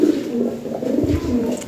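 Lahori Sirazi pigeons cooing in a cage, a low continuous rolling coo from several birds, close and steady with no talking.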